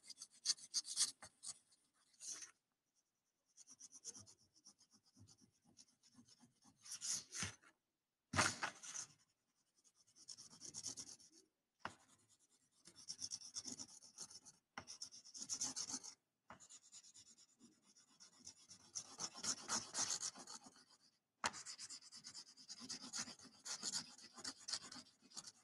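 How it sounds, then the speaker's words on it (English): A brown crayon colors in a paper hand with quick, scratchy rubbing strokes that come in bursts separated by short pauses, quiet and close, with no talking. "Take a brown crayon and we're going to color the hand brown."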